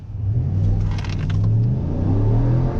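A 2022 Ram pickup truck launching hard from a brake boost, its engine rumbling loud and close as it revs and pulls steadily through the acceleration.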